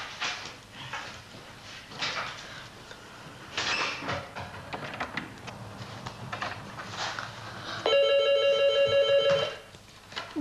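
A telephone rings in a single sustained burst of electronic trilling partway through, preceded by muffled indoor movement and background noise in a French television comedy scene.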